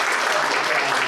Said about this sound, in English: I'm going to ask you to give them a round of applause.